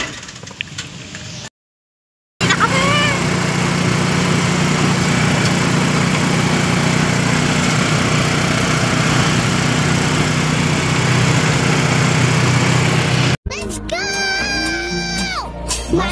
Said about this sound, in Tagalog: Ito iya motor.